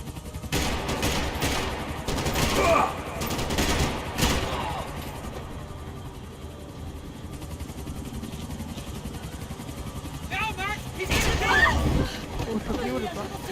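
Gunfire in the video game Max Payne 3, bursts of shots early and again near the end among engine noise and game sounds, with people talking over much of it.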